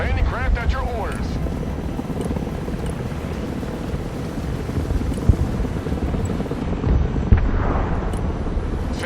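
Helicopter in the Broken Arrow military strategy game, a steady rotor and engine drone running throughout alongside other battle noise, with a game voice speaking over it.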